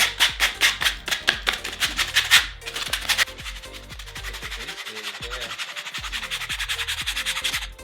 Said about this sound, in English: you throw the sandpaper over it and starts blending it in